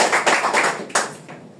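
An audience claps to welcome a speaker to the stage, a short, close burst of uneven hand claps that fades away within a couple of seconds.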